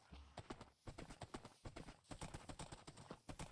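Horse hooves in Minecraft clip-clop in a quick, steady rhythm of close, crisp blocky steps that run through the whole stretch, with a brief faint whinny-like tone near the start.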